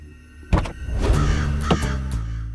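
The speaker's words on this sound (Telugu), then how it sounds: "ఓ నల్ల కాకి దిగుతుంది చూడు." A black crow caws in a few loud, harsh calls close by, with a thunking knock in between.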